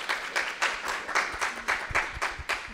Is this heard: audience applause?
yes